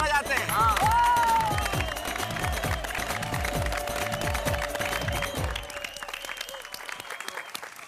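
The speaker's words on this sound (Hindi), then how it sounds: "आइए दुनिया भर के बच्चों के लिए हम एक बार जोरदार तालियां बजाते हैं" Loud, sustained applause from a studio audience clapping for children on a Hindi TV comedy show, with crowd noise and a faint voice, fading out after about five and a half seconds.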